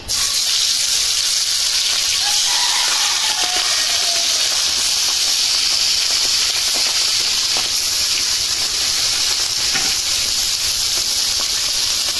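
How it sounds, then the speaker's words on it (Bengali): Fish, salted and spiced, frying in hot oil give off a loud, steady hiss and sizzle that runs unbroken throughout, with no talking. "তেলটা গরম হয়ে গেছে, এখন দিয়ে দেবো মাছ।"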